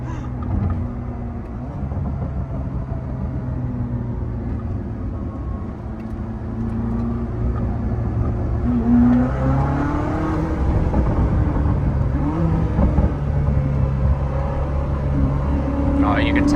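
Koenigsegg Jesko Attack supercar engine rumbling steadily and rising as it accelerates in a convoy with an HWA Evo and Bugatti Chiron, loud and close from inside the car, swelling in pitch and volume toward the end.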